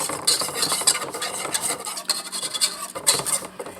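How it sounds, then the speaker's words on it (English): Butter, flour and heavy cream roux stirred in a pan for mac and cheese, with a steady scraping, rasping whisk rhythm, close and moderately loud, brief clinks of utensil on metal and no talking. "you still want to stir everything together when you add your heavy cream"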